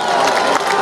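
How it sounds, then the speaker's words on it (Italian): A large outdoor crowd in a packed town square in Iglesias applauds and cheers loudly and continuously as a fighter enters for a Muay Thai event. "Eccolo Mattia Peddio tra gli applausi del folto pubblico di Iglesias."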